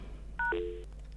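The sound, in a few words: telephone dialing DTMF tones on a FreeSWITCH call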